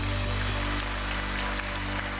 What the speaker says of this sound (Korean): 우리 영광의 박수 올려드리겠습니다